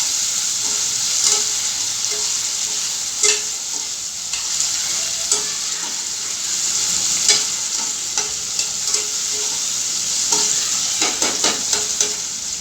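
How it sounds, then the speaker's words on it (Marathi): Chopped tomato fries in a pan with a steady, close sizzle, punctuated by repeated scraping and clinking stirring strokes throughout. "टोमॅटोला पण आपण थोडंसं फ्राय करून घेऊया"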